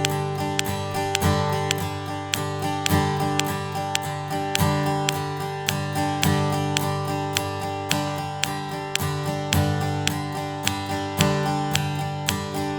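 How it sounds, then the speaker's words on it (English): A guitar strums chords steadily, down on each numbered beat and up on every off beat, giving an even, continuous stream of ringing strums, close and clear with no voices. "we're going to be strumming down on the numbered beats,"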